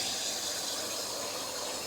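Batter for gurer pithe, a jaggery rice-flour cake, slides slowly into smoking-hot oil in a kadai, giving a steady, close frying hiss that holds evenly throughout without talk.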